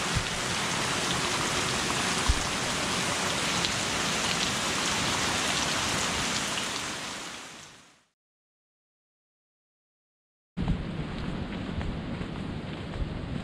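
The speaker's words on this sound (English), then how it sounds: "Kind of looks like the rain right now." Heavy rain pours down steadily in Davao in the Philippines as a dense, loud, continuous hiss. It cuts out abruptly to a few seconds of silence, then resumes just as thick, with no talking.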